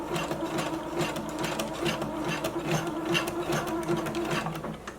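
A sewing machine runs a zigzag stitch while a drawstring elastic-waist maxi skirt is being made, its steady rapid needle clatter continuous and close for the whole stretch, with no voices.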